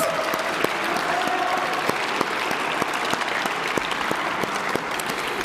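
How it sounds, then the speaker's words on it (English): A room full of people applauding steadily at an awards ceremony, sharp claps blending into a dense, even patter that holds for several seconds. "give a round of applause to each other, students to teachers, and teachers to students"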